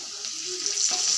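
Diced potatoes with salt and turmeric fry in a pan for a vegetarian radish dish, giving a steady close hiss and sizzle that roughens partway through as they are stirred, with no voices.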